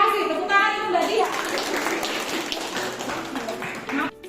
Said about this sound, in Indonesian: Tepuk tangan untuk Mbak Dia